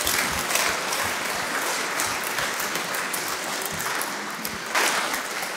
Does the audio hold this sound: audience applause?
yes